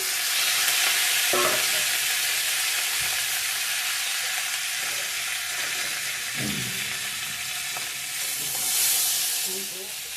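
Ginger and chopped tomatoes frying in a pan give a steady, loud sizzle that runs the whole time, with a few soft clinks of stirring scattered through it.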